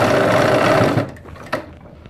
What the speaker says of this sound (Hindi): ऊपर से आप इसे सिलाई लगाएंगे जो जिप की सिलाई है